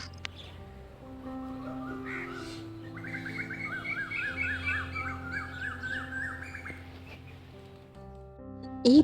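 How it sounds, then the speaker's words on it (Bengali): Birds sing in the morning with bright chirps and a repeated warbling phrase over a low steady background hum, moderately close and fairly quiet. "এই পাখির আওয়াজটা শুনতে তোমাদের কেমন লাগলো বলো তো?"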